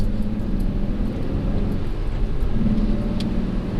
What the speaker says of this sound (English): You're just barely touching the throttle and the thing just spins